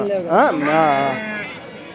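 Close, loud lamb bleat with a trembling, drawn-out quaver lasting over a second, alone without speech, at a sheep and goat market in Kadiri.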